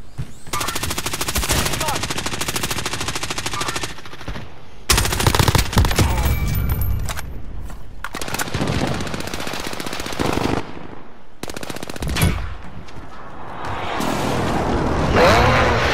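Rapid bursts and single shots of automatic gunfire crack through a battle royale video game firefight, loud and dense in several long volleys separated by brief gaps.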